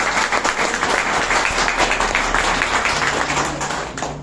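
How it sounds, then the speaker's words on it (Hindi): Dense, sustained applause from a large crowd at an IMC business marketing event, steady throughout and tapering slightly at the end. "और जबरदस्त ताली होनी चाहिए।"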